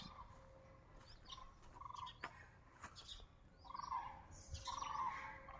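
Faint bird calls and chirps come and go in the still air of a quiet village, with short repeated bursts of song against a hushed background.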